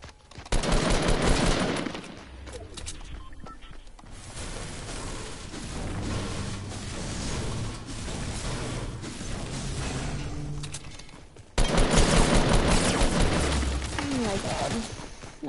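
Rapid automatic gunfire in the Fortnite video game, loud dense bursts at the start and again near the end, with a steadier stretch of shooting and game noise in between and someone talking over it.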